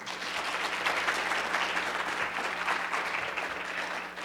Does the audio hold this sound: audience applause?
yes